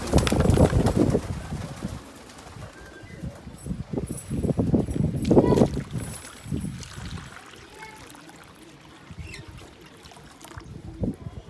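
Pet pigeons in a home loft setup with a water bowl coo and shuffle in uneven bursts, busier and louder early on, then quieter, with occasional light clattering.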